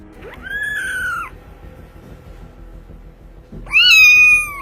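A kitten meows twice, each a long rising-then-steady cry, the second louder, separated by a quiet pause.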